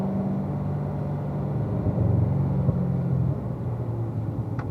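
A car engine rumbles and builds as the driver squeezes the throttle coming out of a track corner. The engine is loud and steady, then tails off slightly near the end, with no talking.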